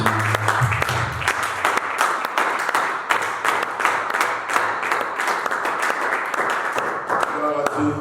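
A church congregation claps to acclaim Jesus in a dense, sustained burst of many hands, loud and close, with voices calling out through it.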